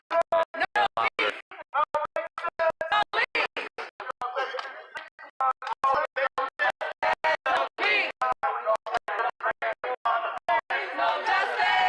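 A loud protest crowd at the August 2020 Kenosha unrest chants and shouts in dense, rhythmic bursts of many overlapping voices that continue throughout.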